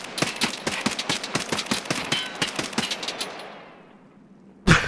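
Rapid automatic gunfire in a video game rattles off in a steady burst of a dozen or more sharp, close shots, trailing into a fading echo before one final loud shot.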